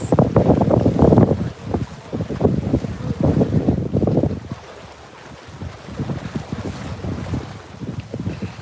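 Steady wind buffeting the microphone in low rumbling gusts on a beach in the Florida Keys at sunset, strongest at the start and easing off slightly later.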